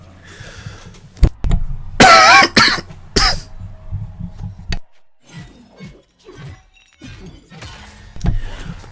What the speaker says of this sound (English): I'm trying to hit the mute button before I cough.